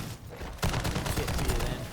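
Rapid automatic gunfire erupts in Call of Duty MW3 Zombies, a loud dense burst of overlapping shots following a brief quieter moment.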